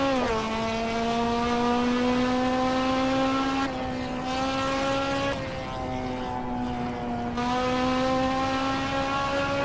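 Honda S2000 engine and exhaust in the racing game Assetto Corsa, a steady high-revving harmonic drone that shifts pitch at several gear changes and holds loud and continuous throughout, with no talk.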